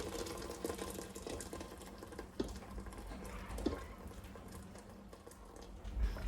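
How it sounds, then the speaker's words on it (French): Hot water, about a litre, pours into a cooking pot of lentils for a Ramadan soup, a continuous close splashing rush with small knocks, and no talk. "ensuite je vais y ajouter 1 litre d'eau chaude"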